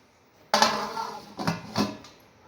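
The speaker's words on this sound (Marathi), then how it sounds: "याच्यावरती आता झाकण ठेवून द्यायचं आहे" A metal lid clanks down onto a wok, followed by two more lighter knocks as it settles, close and fairly loud.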